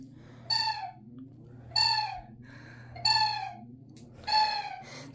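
A fan in a house squeaks as it starts up, a high chirping squeal repeating about every second and a quarter over a steady low motor hum.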